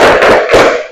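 Hands clapping in a classroom ice-breaking chant, two loud close claps in quick succession with no talking.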